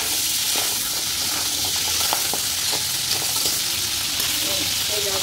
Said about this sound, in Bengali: কাঁকড়া ভাজা হয়ে গেছে প্রায়।